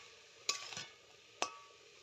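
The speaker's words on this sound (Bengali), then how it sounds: "এবার কিন্তু বাঁধাকপিটা ভেজে নেব এরকমভাবে নাড়িয়ে।" Cabbage with peas and chopped coriander being stirred and fried in a pan: two sharp utensil knocks against the pan about a second apart over a faint, quiet sizzle, with no voices.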